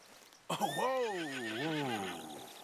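A Kentucky Saddler horse in the Red Dead Redemption 2 video game gives one loud, close, wavering neigh lasting about two seconds after a quiet start.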